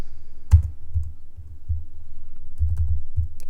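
A computer keyboard being typed on in steady bursts of close, crisp key clicks, some taps landing harder than others, with no voices.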